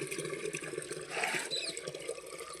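Tap water pours into containers being filled for carrying to a farm field, a soft steady gush with a slight rise in the middle. It stays faint and continuous, with no talk.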